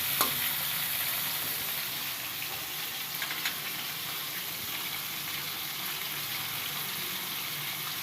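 Fish frying in fully heated cooking oil, giving a steady, close, continuous sizzle with a faint stirring clink near the start and no voices.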